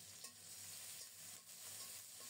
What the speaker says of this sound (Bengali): তেল গরম হলে রসুন ফোড়নে দিলাম